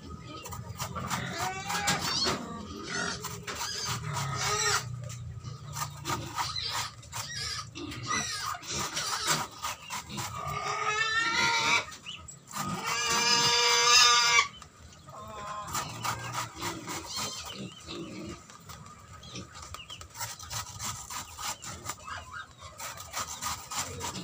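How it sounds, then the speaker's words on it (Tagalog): Pigs being fed on a farm, grunting and squealing close by amid scraping and rubbing noises, with a louder burst of squealing midway. "magpakain ng baboy."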